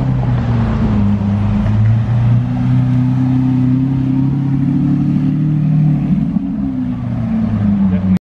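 A Lamborghini Aventador's engine is heard on a Beverly Hills street as a loud, continuous low drone whose pitch shifts slightly near the end.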